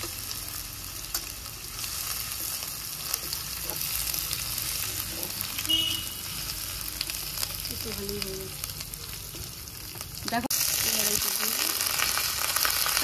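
Garlic paste fries in tempered oil with a continuous, moderate sizzle nearby, with occasional scrapes and clinks from stirring and a few brief voices.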